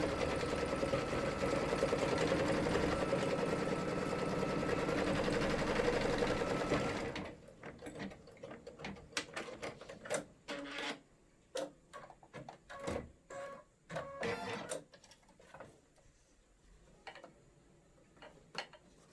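A sewing machine stitching fabric for a lace zippered bag, running loud and steady for about seven seconds, then dropping to scattered mechanical clicks and short whirring stitch bursts.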